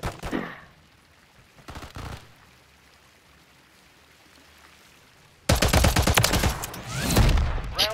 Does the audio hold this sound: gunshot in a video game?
yes